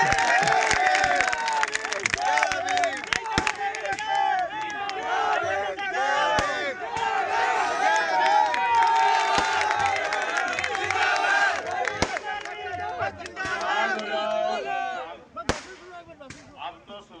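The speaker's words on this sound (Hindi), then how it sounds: "जोरदार तालियां" A dense, loud crowd roars and cheers without letup at an outdoor road show rally welcoming Chaudhary Ranjit Singh, with shouts, clapping and what may be firecracker pops, then thins out near the end.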